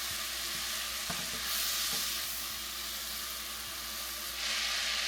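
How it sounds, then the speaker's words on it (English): Butter melting in a pan for a spinach dip, giving a constant soft hiss and sizzle with a few faint clicks of a utensil, steady and close without voices. "the butter has melted, so I'm gonna go ahead and add the diced garlic."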